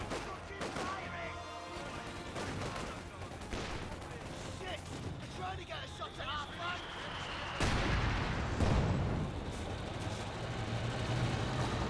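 Vickers machine gun fire in the Company of Heroes 2 video game, mixed with booming artillery and other battle noise. Rattling bursts and explosions play under a commentator's continuous talk.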